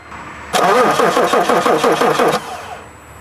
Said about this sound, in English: Go ahead and crank it again.